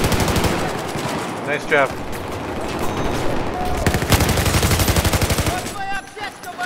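MG4 machine gun firing in the video game Battlefield 4 on Operation Metro, rapid loud sustained bursts with brief gaps, while players talk over the gunfire.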